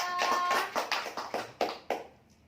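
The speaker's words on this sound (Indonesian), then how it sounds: "Nah, tepuk tangan untuk kita semua." A group of training session participants clap their hands together in a short round of about eight ringing, rhythmic claps, close and clear, that quickly fade out.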